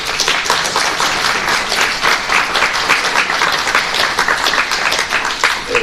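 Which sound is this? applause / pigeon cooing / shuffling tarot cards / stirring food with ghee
applause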